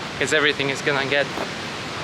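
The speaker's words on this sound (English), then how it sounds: "It's the Austrian waterfalls." Rushing water from an Austrian waterfall roars as a steady broadband wash, with someone talking over it close to the microphone.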